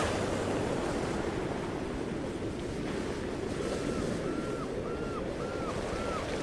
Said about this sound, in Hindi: अब हम समुद्र के किनारे आ गए हैं।